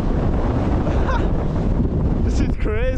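Strong wind buffets the microphone on a Lake District hilltop near Branstree and Selside Pike, a loud, constant roaring rush, with a brief voice near the end.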